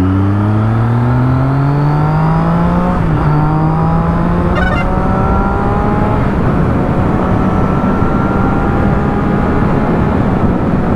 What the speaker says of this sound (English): I'm sure you guys are gonna love the exhaust note.